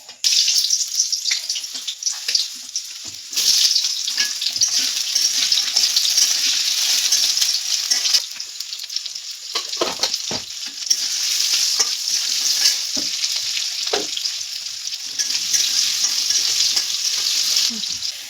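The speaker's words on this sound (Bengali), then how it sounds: "এখন এখানে আমি আলুগুলো একটু ভেজে নেব" Potatoes fry in hot oil in a wok, giving a steady, close sizzle that runs the whole time, with occasional stirring clatters and scrapes breaking through.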